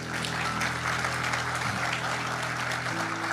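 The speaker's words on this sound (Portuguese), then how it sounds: "quem pode dar a Jesus uma salva de palmas?" A church congregation applauds during a sermon, a soft, continuous patter of many hands held at a low, steady level under a sustained organ or keyboard tone with no talking.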